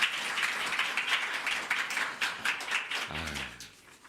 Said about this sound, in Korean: 박수 한번 더 치기를 원합니다